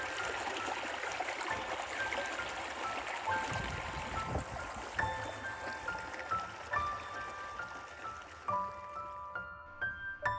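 A river runs over rocks in hot desert country, shaded near a favourite spot, its steady broadband rush carrying on throughout with scattered tonal chirps, likely birds, rising toward the end.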